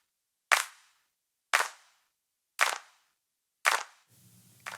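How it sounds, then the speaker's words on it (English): Hand claps thickened by H949 Harmonizer pitch-shift doubling and delays, four sharp, wide claps about a second apart, each with a short tail, then a low hum and the start of a fifth. "The H949 Harmonizer really adds a lot of doubling on the hand claps with the pitch shift"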